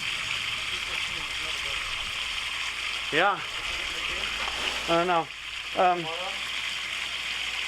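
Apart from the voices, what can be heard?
running water from a hose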